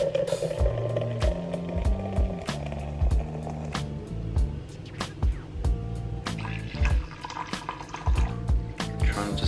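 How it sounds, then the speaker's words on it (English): Hot water poured into a coffee press, a steady liquid trickle and fill sound heard over background music with scattered clicks and knocks. "then you pour the water in, leave it for 5 minutes and press"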